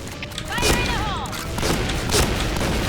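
Gunfire from the online shooter Point Blank, sharp bursts of shots cracking twice over a dense, noisy game mix, with a voice talking excitedly throughout.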